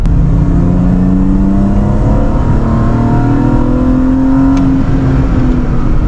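A car engine accelerates steadily and loudly in third gear, its pitch climbing slowly through the long gear with no break, close and continuous throughout.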